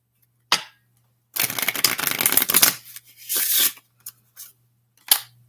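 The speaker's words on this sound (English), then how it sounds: "Tells you how quickly these cards shuffle up." A deck of playing cards is shuffled in quick riffles. A short flick comes first, then a long ripping burst and a second shorter riffle, followed by a few sharp taps as the cards are squared, all close by with no talking.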